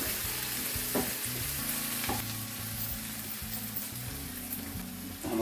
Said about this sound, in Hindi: तो हम इसमें अच्छी तरह से इसको मिक्स कर देंगे।